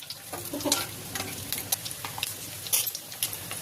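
Crackling, popping hot oil as vadagam fries, with scattered sharp spits and a light stir, close by and no voices.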